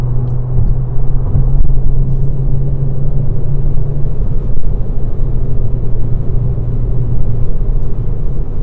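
Cabin of a 2016 Volkswagen car cruising at over 80 mph, a steady loud low rumble of road and engine noise with a faint hum and no speech.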